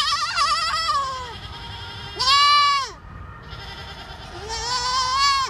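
A goat at an urban farm bleats three times up close, each call long and wavering, with short pauses between and light background noise.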